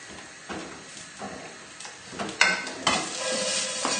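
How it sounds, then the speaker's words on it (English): Fish cassoulet stirred in a pot to mix in salt and pepper, a soft scraping and sizzling with a few sharper clinks of the utensil near the end. "And then just give the cassoulet a stir,"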